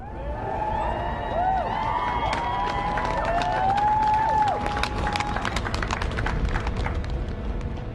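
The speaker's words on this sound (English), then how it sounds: "With thunderous applause." Thunderous applause mixed with cheering and whistles from a large crowd, a dense steady roar of clapping sustained throughout.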